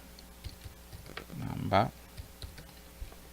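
A few soft keyboard keystrokes tapped out on a computer keyboard, near and quiet, with a short burst of clicks partway through; no talking.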